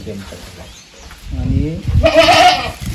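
A goat bleats loudly up close, a wavering nasal cry, mixed with brief rustling and a voice nearby.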